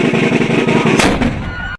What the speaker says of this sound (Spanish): Ya son las 9 de la noche y retumba nuestro cañonazo antiimperialista.